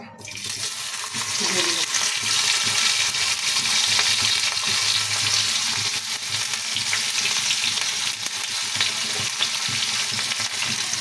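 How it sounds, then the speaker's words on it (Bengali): Chilli and onion hit hot oil in a wok, setting off a loud, dense, steady sizzle that carries on without a break from start to finish. "তেলটা গরম হয়ে গেছে এখন আমরা এখানে মরিচ কিছু এবং পেঁয়াজ"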